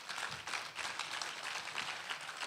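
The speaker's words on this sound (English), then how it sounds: "You're going to clap really loud." An audience at a business summit and exhibition breaks into dense, sustained clapping, a steady wash of many hands applauding together at a moderate distance.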